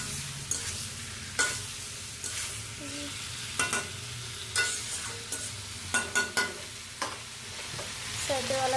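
Potato and vegetable curry fries in a pan with a constant low sizzle, broken by repeated scraping and clattering strokes of a spatula stirring it.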